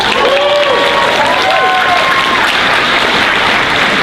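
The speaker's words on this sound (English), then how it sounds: "Give them a round of applause as well." A convention closing-ceremony crowd applauds loudly and continuously, dense clapping filling the whole stretch, with a few faint whistles early on.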